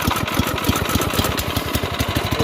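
Off-road kart engine, running on choke and prone to stalling from a dirty or lean carburetor, idles steadily up close with a fast, even low-pitched putter that holds a constant level throughout.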